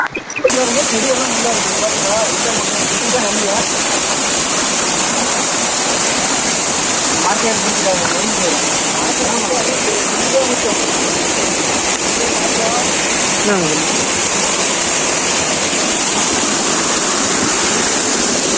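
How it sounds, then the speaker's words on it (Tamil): Loud, continuous rushing water from a fast stream or channel at Kolli Hills fills the whole stretch with a steady roar. "அதுக்கு மேல இன்னும் தண்ணி வருது"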